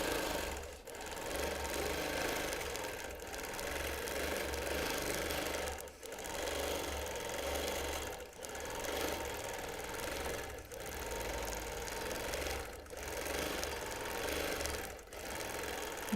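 Quilting machine stitching a feather pattern into fabric, a close, steady rapid mechanical chatter that pauses briefly every couple of seconds before resuming, with no talk over it.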